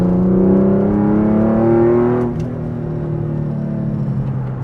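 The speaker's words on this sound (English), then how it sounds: "Cruising on the highway right now" Porsche cruising on the highway, a flood-salvage car with an overheating fault; a steady engine drone with harmonic tones that drop after a couple of seconds as the revs ease into a constant road rumble.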